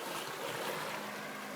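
Ocean waves at sea wash in a continuous broadband roar mixed with wind buffeting the microphone, steady and fairly loud with no talk, at night by the water.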